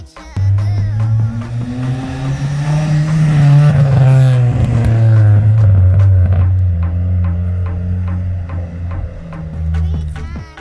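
A modified 2000 Vauxhall Corsa B GSi engine close up, revving up strongly and holding high revs, then easing back to a steady idle, loud and with no speech.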